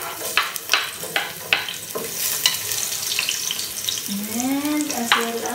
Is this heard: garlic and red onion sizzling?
yes